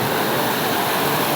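A village stream rushes through bushes and shrubs, a steady dense broadband wash of flowing water, close and loud with no voices.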